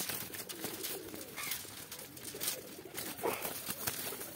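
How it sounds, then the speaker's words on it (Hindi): Pigeons, a male and female pair recently bought at a market, coo softly and repeatedly over a busy, noisy background with scattered broadband clatter, no clear speech. "ये बहुत क्यूट कबूतर है, दो जोड़ी है।"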